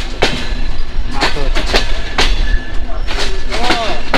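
A heavy Chilahati Express train runs near Natore station in Bangladesh with a loud, close rumble and rhythmic clacking of wheels over rail joints, several sharp knocks in quick succession.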